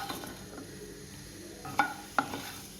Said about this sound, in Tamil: இப்போ இதை நான் வந்து ட்ரை ரோஸ்ட் பண்ணுறேன்